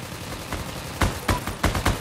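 Gunfire in the online war shooter Heroes and Generals, a handful of sharp, fairly close shots cracking irregularly over a dense, noisy battlefield background.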